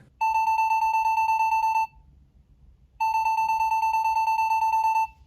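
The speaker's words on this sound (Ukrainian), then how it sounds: "Ось так звучить будильник." A Caixing CX-2158 electronic clock alarm sounds two sustained, loud electronic beep bursts of about a second and a half each, separated by a short silence, clean and close.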